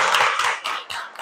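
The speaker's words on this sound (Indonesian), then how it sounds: "Beri tepuk tangan untuk kita semua" A short burst of group clapping in a school classroom during a mathematics lesson, close and fairly loud, in a few uneven pulses.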